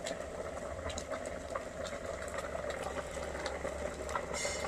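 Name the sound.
milk boiling over for prasadam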